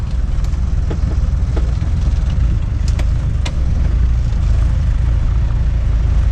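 A 1997 Land Rover Defender with a 300 TDI turbo diesel engine and manual gearbox drones loudly and steadily from inside the cabin, a constant low engine and road rumble with a few faint clicks and ticks over it.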